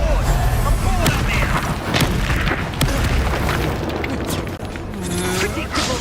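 Spell blasts and booming explosions in Hogwarts Legacy keep a loud, dense combat din going throughout, with heavy impacts and bright magical whooshes layered over one another and a voice briefly heard.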